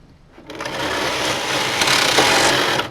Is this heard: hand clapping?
no